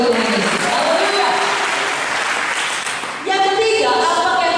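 Congregation at a church service clapping together, a dense sustained wash of applause that runs throughout, with a brief dip near the end before it swells again.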